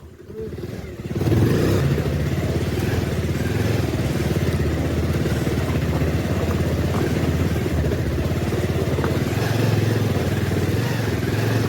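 A motorcycle rides along a rough, rugged mountain road on the way from Siliguri toward Mangan, its engine a steady, loud rumble with rattling clatter from the bumpy surface throughout, starting after a quiet first second.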